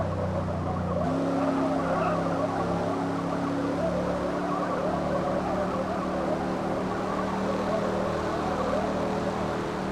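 In a video game, a car's engine gives a low, smooth, steady hum with faint tire noise, running continuously after a short quieter opening and staying subdued throughout.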